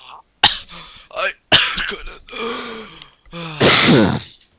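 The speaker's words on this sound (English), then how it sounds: "Don't ever cough on my video" A person coughs and clears their throat several times in short bursts between spoken words, ending in a louder, harsher rasping cough, all close to the mic during a RuneScape game session.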